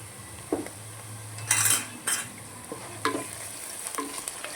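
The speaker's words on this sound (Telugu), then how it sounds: "అల్లం వెల్లుల్లి పేస్ట్ కూడా మంచిగా ఫ్రై అవ్వాలన్నమాట" Ginger garlic paste and curry leaves frying in a pan, with a soft sizzle broken by several sharp clinks and scrapes of a spoon stirring against the metal, close up and with no voices.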